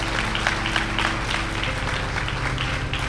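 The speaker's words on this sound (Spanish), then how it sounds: "Denle un fuerte aplauso al Señor" Congregation applauding during a Christian church service, moderate clapping that continues evenly over a low steady hum.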